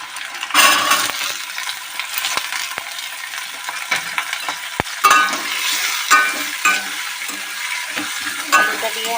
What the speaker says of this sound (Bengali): আলুটা দিয়ে আমরা ভালো করে ভেজে নেব